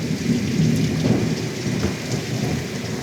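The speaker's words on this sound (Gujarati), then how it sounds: "આપ વીજળીના કડાકા ભડાકા પણ સાંભળી જ રહ્યા હશો" A thunderstorm over Wankaner in Morbi district brings heavy rain and strong wind. Dense, loud rainfall roars continuously, with low thunder rumbling beneath it.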